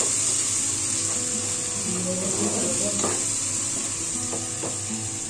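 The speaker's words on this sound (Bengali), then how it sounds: "এবার ভেজে নেওয়া পেঁয়াজের সাথে আদা রসুনের পেস্টটা একটু কষিয়ে নেব" Ginger garlic paste frying with fried onions for mutton curry, a steady close sizzle with intermittent scraping stirs of the spoon throughout.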